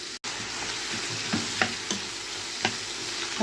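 Sausage and vegetables sizzle steadily in oil in a pan, with a few soft scraping stirs of a utensil against the pan surfacing over the continuous frying hiss.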